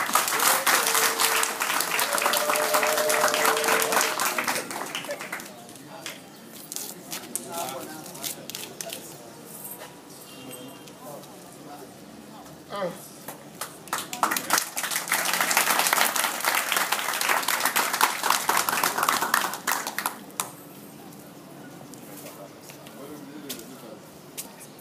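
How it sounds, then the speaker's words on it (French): Applause from a rally crowd at a political tour stop in Ndjolé, Gabon, rises in two long waves of dense, steady clapping with a quieter stretch of scattered claps between them, and a voice speaks over the middle lull. "Si vous applaudissez seulement encore."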